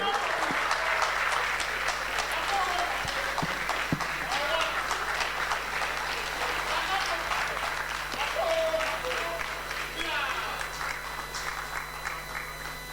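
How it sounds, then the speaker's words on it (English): An audience at an institute lecture in the UK keeps clapping steadily while voices and scattered cheers mix in, the applause gradually thinning toward the end. "Let's keep clapping then."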